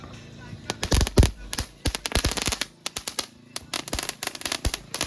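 Diwali firecrackers at a home celebration go off in a rapid chain of sharp cracks and pops, irregular bursts clustered close together and loud, with voices talking around them.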